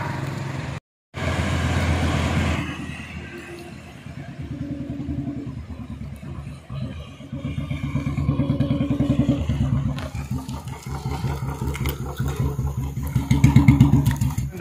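Royal Enfield Bullet motorcycle with a changed handlebar being ridden, its thumping single-cylinder engine running steadily, briefly cutting out near the start, then rising and pulling harder toward the end, close and loud.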